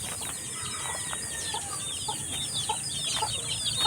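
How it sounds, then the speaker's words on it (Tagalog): Newly hatched chicks peep in a busy chorus of high, rapid chirps close by, with occasional soft clucks from nearby chickens in a backyard farm setting with pigs. "Ito mga sisiyo oh."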